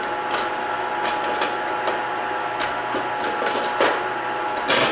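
A homemade ice cream maker runs with its lid on, holding a steady mechanical whir and churning hum with some faint knocks and clicks, close by and with no speech.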